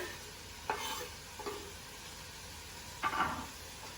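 Chopped coriander is stirred into a fenugreek (methi) and hamburger mixture in a pot, making three soft scraping strokes spaced apart over a quiet, faintly sizzling background.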